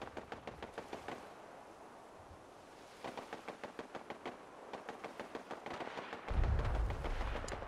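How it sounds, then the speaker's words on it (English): Distant gunfire in the video game Fallout 4 crackles as rapid repeated shots in bursts, faint and far off over a soft ambient background, ending in a louder low rumble. "I hear gunfire."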